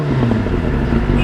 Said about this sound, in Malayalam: എക്സോസ്റ്റ് സൗണ്ട് നമുക്ക് നോക്കാം.